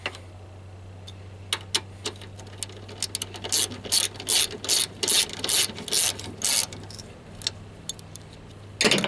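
Ratchet wrench tightening a nut onto an oil filter bracket stud on a 2.2 OHV Cavalier/Sunfire engine, a run of quick clicking bursts of increasing strength, close and alone over a low hum.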